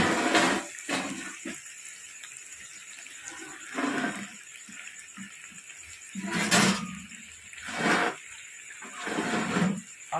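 Water is poured into a tomato and date chutney cooking in a pan on a gas stove, heard as several close, splashy gushes in separate bursts with quieter gaps between them and no talking.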